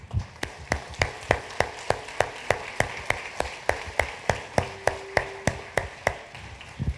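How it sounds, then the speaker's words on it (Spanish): A church congregation claps in a steady, regular rhythm, with sharp, evenly spaced beats about three per second that continue strongly throughout. "Démosle un aplauso a todos."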